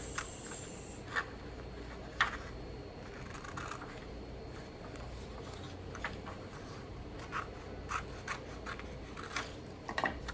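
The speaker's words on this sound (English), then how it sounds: "So I'm just lining it with this other one to cut it out." Scissors snipping through a cardboard box side for a simple homemade box, a quiet series of short, separate cuts spaced irregularly over a low background hiss, with no talking.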